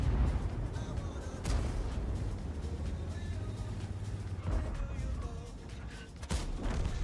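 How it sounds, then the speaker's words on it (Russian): Tank cannon shot in World of Tanks, firing from a T110E5 heavy tank: sharp booming blasts near 1.5 and 6.3 seconds over a steady rumbling engine drone and battle noise. "Дерьмовый выстрел, надо было лучше"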